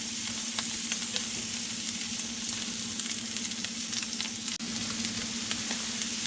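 Steak for a Philly cheesesteak fries in a hot pan with a steady, dense sizzle and crackle, close and loud, and a brief clunk near the end. Nobody speaks.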